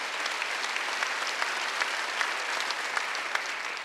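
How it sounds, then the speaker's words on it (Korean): A church congregation at a Wednesday worship service claps together, a dense, steady wash of applause with scattered sharper claps standing out, sustained evenly throughout without talk. "박수 한번 주세요"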